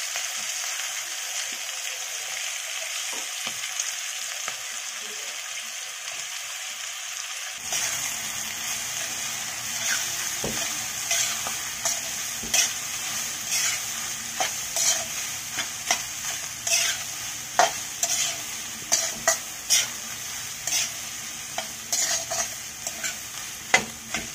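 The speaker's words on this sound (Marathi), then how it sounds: "वाटाणा थोडंसं परतून घेतल्याच्या नंतर आपल्याला हे आपलं फणस घालायचं." Tender jackfruit and peas stir-fried in a pan, with a steady sizzle and repeated scraping stirs that grow louder and more rhythmic after a quiet start, with no talking.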